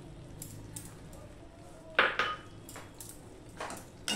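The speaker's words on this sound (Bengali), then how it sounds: "দিয়ে সম্পূর্ণটা আমি মিশিয়ে নিলাম" Spoon scraping and clinking against a pan while dried fenugreek leaves (kasuri methi) are stirred into a taro (gathi kochu) curry, a few sharp close metallic scrapes and taps over quiet background.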